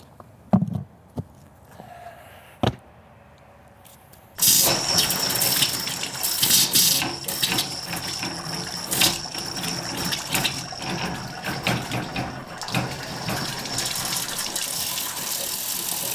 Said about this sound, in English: All that is air beating the water out of the end of the faucet